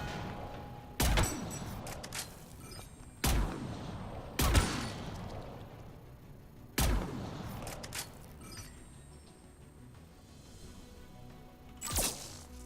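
Geth sniper and patrol gunfire in the video game Mass Effect 3: five sharp, isolated shots spaced a few seconds apart, each with a ringing tail, over a quiet battlefield background.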